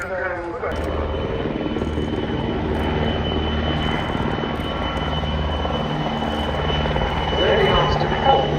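A German Air Force transport aircraft from an air transport unit flies its display at the Royal International Air Tattoo airshow in 2025. A steady, loud propeller-engine drone fills the whole stretch, and a commentator talks over it.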